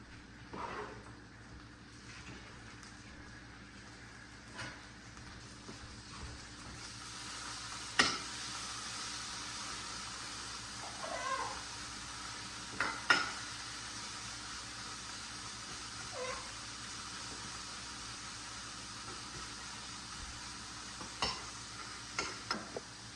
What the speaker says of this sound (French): Je suis en train d'appuyer en même temps, j'appuie en même temps sur la viande hachée